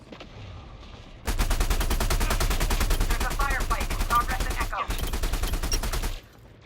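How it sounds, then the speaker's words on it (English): The Kinematic AR-50 kinetic assault rifle in the video game Elite Dangerous: Odyssey fires a loud, close, rapid automatic burst lasting several seconds, broken by a brief pause before the rattling shots resume and then stop. "this is what the Elite Dangerous standard kinetic assault rifle, the kinematic AR-50,"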